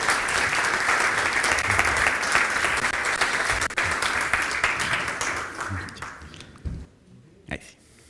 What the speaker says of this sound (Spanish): Recibamos con un gran aplauso a Nico.